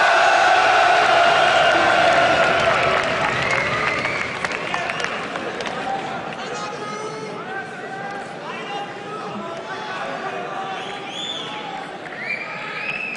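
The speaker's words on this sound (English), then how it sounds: "they deserve one hell of an applause as well" An esports arena crowd at a League of Legends match cheers and applauds loudly for a team, with an announcer's voice over the start before the roar settles into scattered clapping and shouts.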